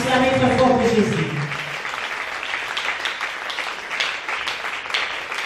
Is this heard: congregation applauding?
yes